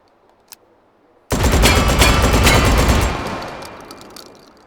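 The Scalpel-LE gun fires a loud, fast continuous burst of about two seconds in Hot Dogs, Horseshoes and Hand Grenades, then the noise rings out and fades after a quiet lead-in.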